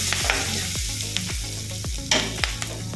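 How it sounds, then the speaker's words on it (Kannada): Onions frying in a pan sizzle steadily close up, with repeated scraping and stirring strokes of a spoon at an irregular rhythm. "ಸ್ವಲ್ಪ ಇನ್ನೂ ಕೂಡ ಈರುಳ್ಳಿ ಫ್ರೈ ಆಗಿಲ್ಲ, ಆಗಲಿ ಇನ್ನೊಂದು 30 ಸೆಕೆಂಡ್ ಫ್ರೈ ಆಗಲಿ."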